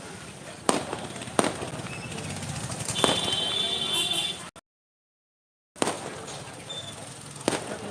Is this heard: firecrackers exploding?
yes